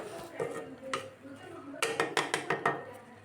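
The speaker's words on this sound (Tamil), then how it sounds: "ஒரு மூடி போட்டு வேக விடலாம்" A metal lid goes onto a cooking pot of greens, with scattered clinks and scrapes followed by a quick run of sharp, close metallic taps and rattles as it settles.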